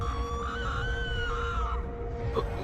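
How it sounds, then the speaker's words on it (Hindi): A man in a Hindi horror cartoon lets out a long, wavering scream that rises and sags before breaking off, loud and close over a low rumbling background. "उसके चिल्लाने की आवाज सुमेर सिंह के कानों में भी पड़ती है।"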